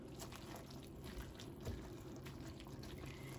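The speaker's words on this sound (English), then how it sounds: "I'm gonna add a little more water in here, probably a cup." Water pours into a pot of collard greens with smoked turkey necks, a faint, steady splashing trickle lasting a few seconds, heard close and alone.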